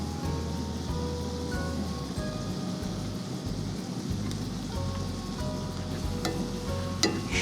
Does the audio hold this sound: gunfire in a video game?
no